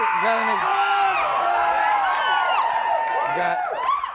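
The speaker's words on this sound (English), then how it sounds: "got a very excited crowd here tonight" A studio audience cheers and whoops loudly, many overlapping voices shouting and whistling with scattered clapping underneath, sustained and close throughout.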